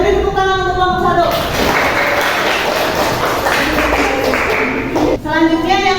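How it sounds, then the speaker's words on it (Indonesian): An audience applauds a presenting group at a teacher training session, a steady burst of clapping lasting several seconds between stretches of a speaking voice. "Beri tepuk tangan untuk kelompok"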